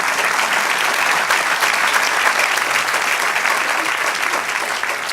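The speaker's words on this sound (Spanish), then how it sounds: "Dale un aplauso al Señor." A congregation at a church service applauds the Lord, sustained loud clapping from many hands held steady for several seconds, tapering a little at the end.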